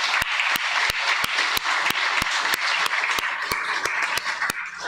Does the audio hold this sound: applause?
yes